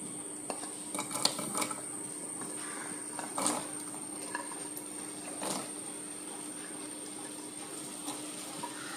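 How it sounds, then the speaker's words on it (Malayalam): Okra dropped into hot oil in a pan for a Kerala vendakka curry, giving a steady, faint sizzle with a few light clinks of utensil against the pan. "അപ്പം നമുക്ക് എണ്ണ ചൂടാകുമ്പോൾ അതിലേക്ക് വെണ്ടയ്ക്ക ഇടാം."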